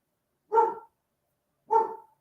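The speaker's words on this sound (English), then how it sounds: "sorry, Zoe's barking." A dog barks twice, two single sharp barks about a second apart, with silence around them.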